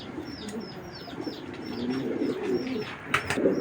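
Racing pigeons, including grizzles, coo repeatedly from close range. Their calls overlap in a busy loft chorus, with a few brief sharper sounds near the end.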